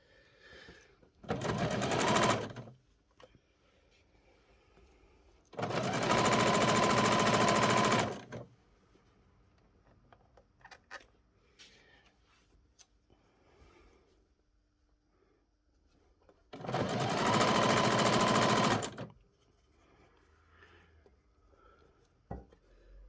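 A sewing machine stitches around the collar of a doll's school shirt in three separate bursts of a few seconds each. Quiet pauses with faint handling noises fall between them.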